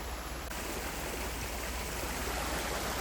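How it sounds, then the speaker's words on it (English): A creek in Rattlesnake Canyon flows in a steady, even rush of water, close and continuous with no voices. "And this is the creek flowing down."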